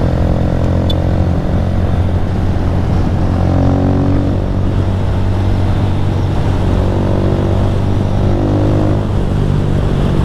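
A 2023/24 Honda Fan 160 motorcycle rides with a passenger aboard, its engine a loud, steady drone that holds close for the whole stretch with no pauses and no talk over it.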